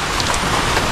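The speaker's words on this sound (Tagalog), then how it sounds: "Maulan pa rin." Rain pours down outdoors, a loud, close, dense hiss of drops striking surfaces, steady and with no voices.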